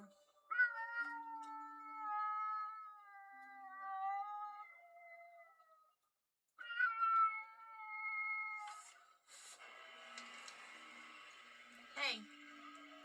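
Indoor cats crying out, with two long drawn-out meows separated by a pause, followed by scratchy rustling and a brief sharp yowl at the end.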